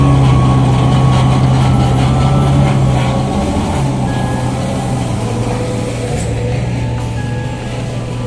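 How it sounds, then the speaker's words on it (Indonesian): Loaded material truck passing on a dusty rural road near a teak forest on the Blora–Rembang border, a loud steady low engine rumble that stays close and slowly fades over several seconds, with no talking. "Terutama ini ada truk yang melintas yang muat material."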